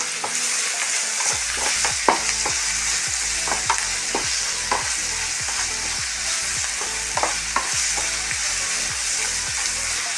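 Sliced onions fry in a pan for a small green banana stir-fry. A dense, steady sizzle runs throughout, with regular scraping stirs of a spoon close by.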